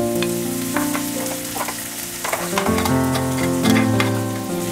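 Onions and potatoes fry in melted butter, giving a steady close sizzle with a few stirring clatters; sustained musical tones run underneath.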